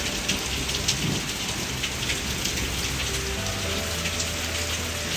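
Steady, dense rain falls outdoors, pattering onto a puddle by a stream in a continuous close hiss with no voices.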